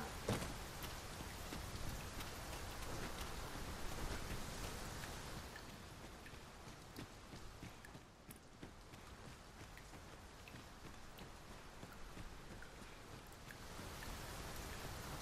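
Rain falls steadily in the video game Dragon's Dogma 2, a constant hiss of drops, fairly soft and even throughout, with no voices.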